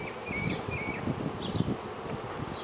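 A dense, steady hum of buzzing honeybees with a few thin, high tooting notes from a piping virgin queen bee above it.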